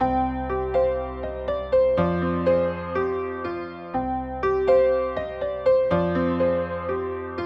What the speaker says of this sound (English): So for my first sound, I just used a very simple piano sound.